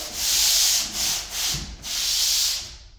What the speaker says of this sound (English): I just sand the edge very lightly just to kind of break off the mud.